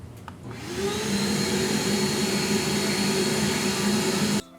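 A workshop shop vacuum, switched on by a wireless remote switch, roars steadily with a strong low hum and broad whooshing air noise, loud and close, then cuts off abruptly at the end.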